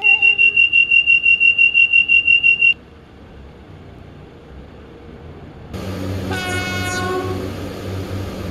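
A two-coach Class 143 Pacer train runs along with a steady low rumble inside the carriage, first under a repeating electronic chime, then with a rising squealing whine from the wheels and running gear.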